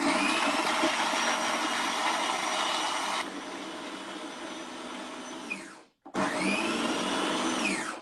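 A blender pulsing raw cauliflower for vegan sushi, a loud steady whirring run that drops in pitch, cuts out briefly, then roars back on.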